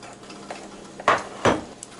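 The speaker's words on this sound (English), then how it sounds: "might be easier if I take my kitchen shears and just go around the pan like so" Kitchen shears cutting around the crust in a baking pan, two distinct crisp snipping clicks about half a second apart, close and fairly loud in a quiet kitchen.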